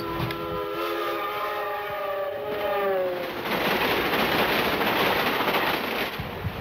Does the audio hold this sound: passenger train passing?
yes